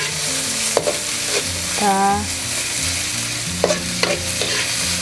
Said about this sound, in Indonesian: masukkan bawang bombay beserta wortel ke dalam minyak yang sudah panas